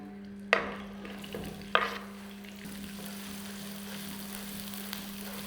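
Chopped onion goes into hot ghee with two sharp splashy hits. A steady close sizzle follows, with light stirring scrapes and a faint hum beneath.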